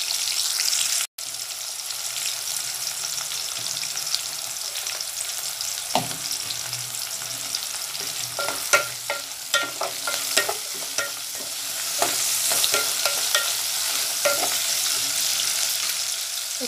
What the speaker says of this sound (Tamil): இப்போ வெங்காயம் ஓரளவு வதங்கிருச்சு.